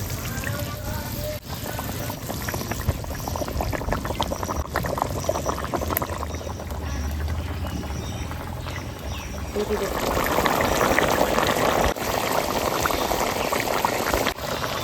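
Water poured into a simmering fish curry in a pan gives a steady bubbling, sizzling wash that swells louder near the end, with a voice talking over it.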